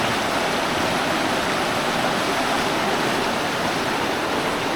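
Cold stream water rushes steadily over a washed-out hiking trail in the Foothills, a dense, continuous broadband flow close by with no voices.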